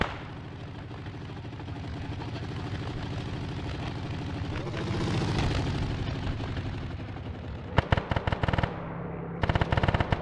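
Sustained machine gun fire rattles continuously in a Stalingrad war video game, dense and loud, swelling midway, followed by sharp bursts of gunshots near the end.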